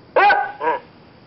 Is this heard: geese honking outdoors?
no